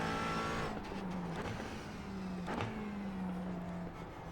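A McLaren 570S GT4 race car in a sim racing game, its engine droning steadily at high revs with brief shifts and tire noise, heard continuously and close throughout.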